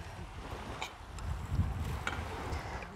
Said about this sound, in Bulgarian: само че тук много духа